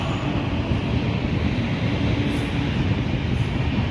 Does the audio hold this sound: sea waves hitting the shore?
no